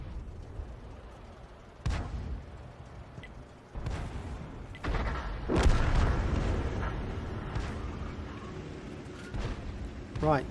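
Several booming artillery shots from the Hummel self-propelled gun in World of Tanks on the Himmelsdorf map, each a deep thump followed by a rumbling tail, with game background in between.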